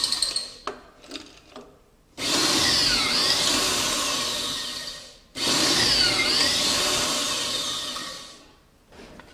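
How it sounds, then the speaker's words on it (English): Two sustained bursts of a power drill boring pocket screw holes into wood trim pieces for a newel post cap, each lasting about three seconds with a steady whine, preceded by light clicks and handling noises. "we're getting ready to cut the pocket hole screws in the bottom of each of these pieces"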